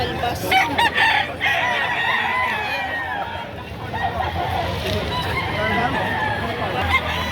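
Roosters crow repeatedly and chickens cluck amid a busy Tuesday poultry market in Padre Garcia, Batangas, with crowd babble and voices talking throughout, the crowing loud and close over the hubbub.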